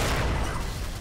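An explosion in the video game Left 4 Dead, heard as a loud, dense roar of rumbling noise that fills the whole short moment and barely fades.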